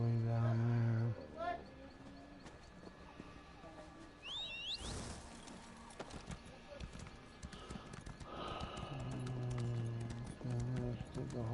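Horse hooves clip-clop in the Elder Scrolls Online video game, a rhythmic run of steps under game music and sound effects that fade mid-clip and return near the end.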